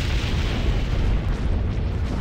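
Weapons fire and explosions in a Star Wars–era space battle in an Empire at War mod, a steady, dense rumble of booms and blasts with no talk, loud throughout.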